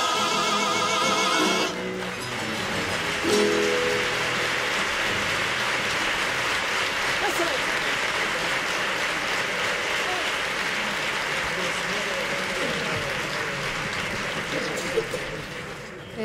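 A theatre audience applauds a carnival choir after its tango. Dense, sustained clapping starts loud, rolls on steadily with scattered cheers and fades slightly toward the end, with a voice briefly heard over it at the start.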